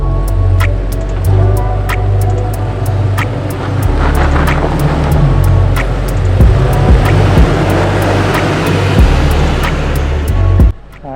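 Low rumbling engine of a stock Toyota Tacoma pickup crawling offroad, loud and close with shifting revs, scattered clicks and knocks from the truck, and no talking.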